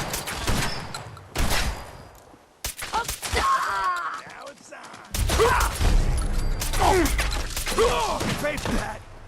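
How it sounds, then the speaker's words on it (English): Gunfire in the video game Fallout 4, several loud close bursts of shots mixed with crashing impacts and game effects, with pauses between volleys and some vocal groans. "Shoot him! Shoot him all!"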